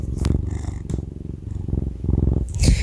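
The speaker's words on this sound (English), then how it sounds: "I don't know if you could hear him purring" A cat purrs steadily up close, a low rhythmic rumble pulsing through the whole stretch, with a brief rustle near the end.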